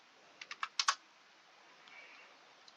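A quick run of about six clicky computer keyboard keystrokes, fairly quiet and close, followed by a pause and a couple of softer taps, with no talking.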